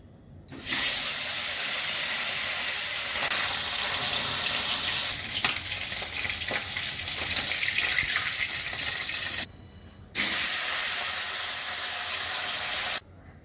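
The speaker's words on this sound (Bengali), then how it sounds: "মাছটা আমি আগে ভেজে নিচ্ছি" Pieces of pona fish fry in hot oil with a loud, dense, continuous hiss that carries on for long stretches. It stops abruptly once, then resumes just as strongly.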